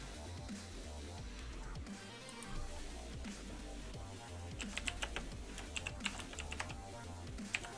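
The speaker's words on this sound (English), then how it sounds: "it's because I'm typing to you guys" Computer keyboard being typed on at a steady pace, soft quick key clicks at close range over faint background music, with a burst of sharper keystrokes toward the end.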